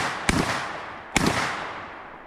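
Black Aces FD12 bullpup shotgun firing double-aught buckshot: two sharp, loud blasts about a second apart, each followed by a short echoing decay outdoors.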